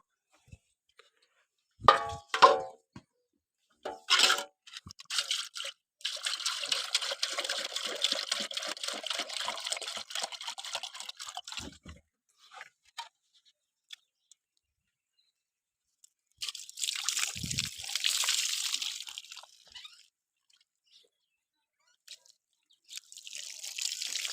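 Water splashes and pours in bursts over buffaloes, a long steady gush followed by a shorter one, with scattered drips and knocks between.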